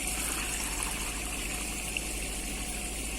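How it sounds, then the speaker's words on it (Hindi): Water is poured steadily into masala cooking in a pot, giving a continuous hissing gush close by, with no talk. "पानी लगाते हैं।"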